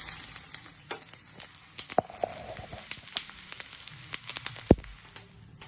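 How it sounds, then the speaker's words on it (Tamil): Vadagam, sun-dried fritters, frying in hot oil, giving a faint, steady sizzle broken by scattered sharp crackles and pops, with one louder pop near the end. "வடவத்தையும் சேர்த்து பொரிச்சிட வேண்டியது"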